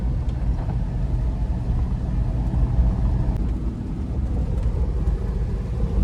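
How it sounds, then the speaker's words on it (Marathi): A car speeding along a road toward IIT, with steady engine and tyre rumble, loud and close throughout, as if recorded from inside the moving vehicle, with no talk over it. "गाडी अशी तुफान पळते ना"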